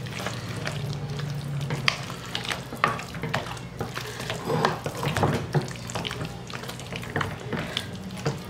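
Buffalo chicken casserole ingredients being stirred and blended in a pot on a medium-heat stove, with a wet, sloshing scrape and faint sizzle repeating steadily, close and clear.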